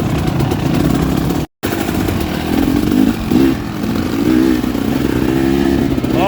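A motorcycle engine runs steadily up close while the rider works the clutch on a wet poker run, a continuous loud drone with slight rev swells and a brief dropout.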